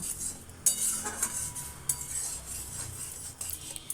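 Mango and sugar stirred in a pot, a utensil scraping and clinking against the metal in steady strokes over about four seconds, close and clear with no talk.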